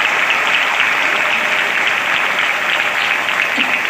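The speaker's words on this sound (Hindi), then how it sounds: "जोरदार तालियां माननीय यशस्वी मुख्यमंत्री शिवराज सिंह जी चौहान के लिए।" Loud, dense applause from a crowd at a government college event in Barwani, honoring the chief minister, a steady roar of clapping that holds evenly throughout without a break.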